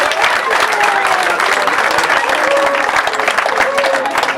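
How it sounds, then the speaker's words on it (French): A festival crowd at the Ducasse de Maffle applauds a couple at a wedding ceremony, loud, dense clapping sustained throughout with faint voices mixed in. "Nous allons les applaudir."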